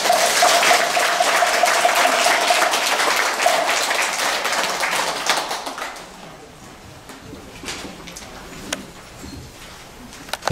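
An audience at a Buddhist Dharma service gives a dense, loud burst of applause that keeps going for about six seconds, then drops to scattered faint claps and room noise.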